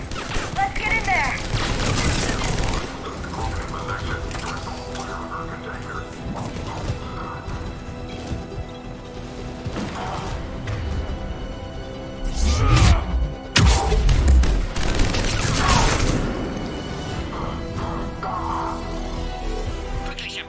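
Game gunfire at a checkpoint in Mass Effect 3, sustained dense shooting and clattering impacts with a heavier burst of crashes near the end, voices talking over the steady combat.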